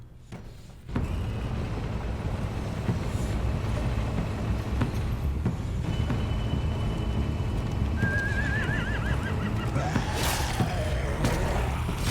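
Horses in The Walking Dead video game whinny and neigh near the end over a constant rumbling background, with possible hoof clip-clops mixed into the steady din.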